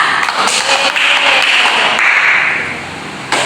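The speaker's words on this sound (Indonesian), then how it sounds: "tepuk tangan untuk Anissa" Students in a classroom applaud a classmate named Anissa, a burst of dense clapping that fills the room and then fades out near the end.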